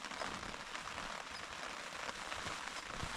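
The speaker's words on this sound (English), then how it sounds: "We're getting some rain now." Rain pours onto a tarp at a fall campsite at Kawishiwi Lake in the Boundary Waters. The patter is close and dense, with no talk.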